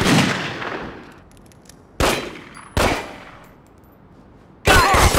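Gunfire in a Godfather-themed video game: loud, separate shots or short bursts, each followed by a fading echo, spaced about a second apart with gaps between.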